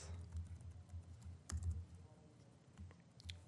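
Computer keyboard typing while writing code in VS Code, quiet close clicks in irregular bursts with a sharper cluster of keystrokes partway through, no speech.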